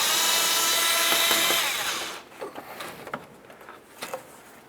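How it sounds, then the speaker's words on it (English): Ratcheting and tool noise while 10 mm mounting bolts come off the bumper cover of a 2006-2012 Toyota RAV4 during a fog light kit install: a steady loud grinding rasp for two seconds, then a few sharp clicks and clunks. "We're going to start removing our 3 mounting bolts for this."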